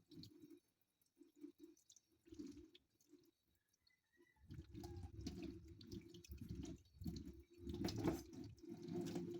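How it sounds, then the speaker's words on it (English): Hands are rinsed under a running tap: a quiet, broken patter of water at first, then a fuller and steadier splash as the hands move through the stream, close by and with no talking. "Now we're going to rinse"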